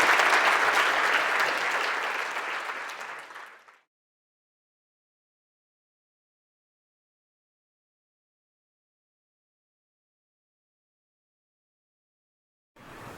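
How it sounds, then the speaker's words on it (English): An audience at an indoor talk applauds after a speaker: dense clapping for a few seconds that fades out into silence. "And so another round of applause for the remarkable Graham."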